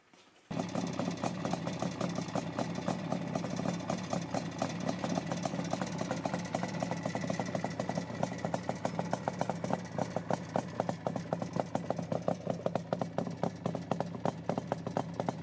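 A Suzuki T500 Titan barn-find motorcycle engine fires up and settles into a steady, loud idle, its rapid even pulsing continuing close by for about fifteen seconds with no talk.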